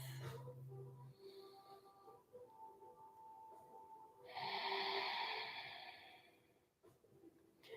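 Slow, deep yoga breaths during a Sunday morning flow class, a long airy exhale swelling loudly near the middle and fading out, with softer breathing before it, close and alone without talk.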